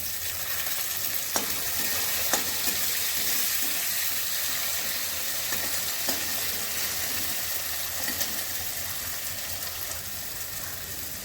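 Chopped tomatoes frying in a pan for a spicy tilapia curry, a steady broadband sizzle with a few sharp crackles, close and fairly loud, with no voices.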